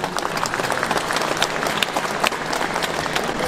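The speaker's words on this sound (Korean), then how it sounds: "여러분 다시 한번 뜨거운 박수로 함께해 주시기 바랍니다" Audience at the opening ceremony of the 2023 Yeongdong dried persimmon festival applauds, with dense, sustained clapping and a few sharper individual claps standing out against the crowd.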